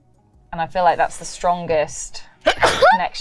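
A single sharp sneeze bursts out near the end, following a stretch of casual speech during a board game session.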